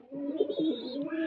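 A female pigeon gives one short, soft, throaty coo, close and alone for just over a second.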